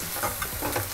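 Cumin, asafoetida, onion and bay leaf frying in a pan, a steady close sizzle with soft stirring scrapes over one brief moment, no voices.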